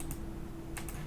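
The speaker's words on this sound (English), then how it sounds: "I'm just gonna type it winget" Command typed on a computer keyboard, a short burst of a few close, crisp key clicks with no talk.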